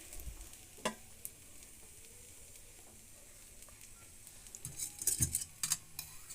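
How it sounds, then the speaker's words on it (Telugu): Bread slices fry in ghee on a hot flat pan, a faint soft sizzle with occasional scrapes and clinks of a utensil, growing busier toward the end. "ఒక పెనం పెట్టుకొని ఒక ఒక అర స్పూన్ నెయ్యి వేసుకొని పెనం కాలినాక ఇట్లా బ్రెడ్ ఒక్కొక్కటి పెట్టుకొని"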